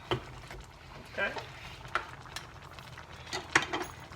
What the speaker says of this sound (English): We're gonna stir this recipe, stir it in all these ingredients